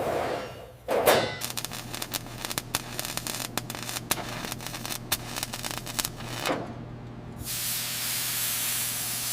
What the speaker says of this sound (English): We'll weld this into the Kenworth T800 floor.